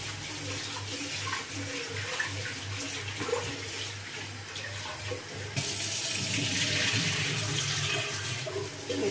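Tap water runs steadily into a kitchen sink as broccoli is rinsed, a constant close splashing rush that grows louder and brighter partway through, with no talking.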